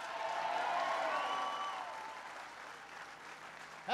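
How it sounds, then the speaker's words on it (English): A crowd at a Labor Day Laborfest rally in Milwaukee applauds and cheers for the man who introduced President Obama. The dense clapping is loud at first, with whoops rising above it, and then thins out and fades. "Give Chris a big round of applause for that great introduction"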